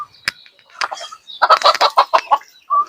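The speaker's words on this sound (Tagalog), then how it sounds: "Ayan, yung mga pabo natin, oh." Turkeys, ducks and other farm fowl clucking and gobbling nearby in a rapid run of short, loud calls, with no talk over them.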